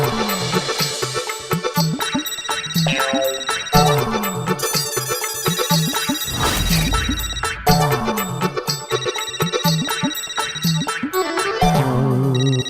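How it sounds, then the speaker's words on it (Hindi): A mobile phone ringtone plays a busy, melodic electronic tune for an incoming call, loud and continuous for over ten seconds with no talking. "चिंटू क्यों फोन कर रहा है मुझे?"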